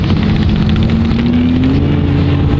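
A kid rides a dirt bike nearby, its engine droning loudly and steadily, the pitch rising gradually as it revs, with no talking.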